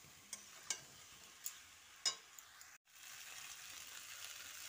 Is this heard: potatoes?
yes